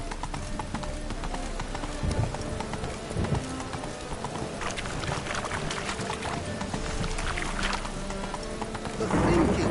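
The horse Roach in The Witcher 3 gallops with a steady, close rhythm of hoofbeats, while a low game soundscape runs underneath and a voice speaks briefly near the start.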